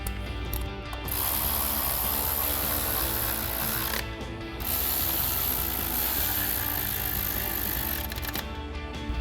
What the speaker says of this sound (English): grab our ratchet, 10mm socket, tighten those two down